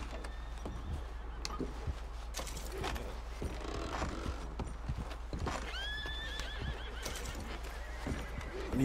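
Horses in the video game Red Dead Redemption 2 whinny loudly a few times over steady clip-clopping hooves and scattered clatter, close by, with no talking.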